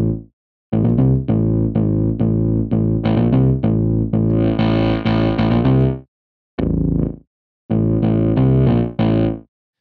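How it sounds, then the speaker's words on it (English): A non-guitar instrument played through a guitar amp gives a plucky, distorted fuzz tone, with sustained phrases running a few seconds each, broken by short gaps and a final pair of bursts, loud and alone. "You almost get that pluck, fuzz, instant amp sound"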